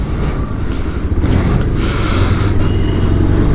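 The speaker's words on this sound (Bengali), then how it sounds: "বাইকে উঠে গেলাম, সবাই চলে এসেছে।" Riding on a motorcycle in rural Bangladesh on the way to Nagarpur, with a steady engine drone and rushing wind filling the sound continuously, fairly loud and close, with no talking over it.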